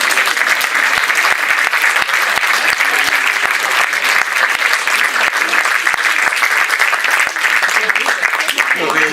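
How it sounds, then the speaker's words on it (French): Loud, dense applause fills a theatre as a packed audience claps steadily for about nine seconds, individual claps blurring into a bright, unbroken roar close by. "un tsunami d'applaudissements pour Nathalie Gouzet"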